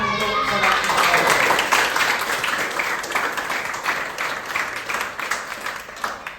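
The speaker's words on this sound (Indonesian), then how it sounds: "Tepuk tangan untuk saudara." A classroom breaks into applause for a student, a burst of many hands clapping that peaks early, then thins into scattered claps while children's voices chatter underneath.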